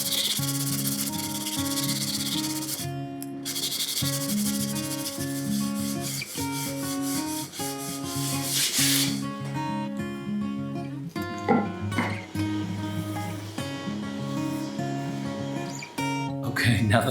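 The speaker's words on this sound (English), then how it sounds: "I'm just going to go over the face of the fingerboard." Repeated back-and-forth rubbing of a 16-inch radius sanding block over a guitar fingerboard's face, rhythmic scraping strokes up close, with a brief pause and some handling noise.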